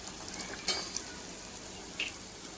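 Bhajiya fritters frying in oil give a faint, steady sizzle with a few small clinks and spatters on top, brief and quiet.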